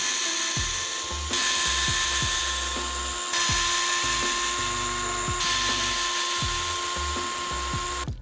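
A ratchet works screws out of an Arrma Gorgon RC truck's rear bumper, close-up with a high whirring drive tone and rapid clicking pawl strokes repeating throughout.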